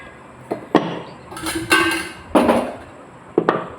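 A wooden board is set down over chapati dough with a few close, sharp knocks and clatters, between short rattling scrapes, loud and with nobody speaking.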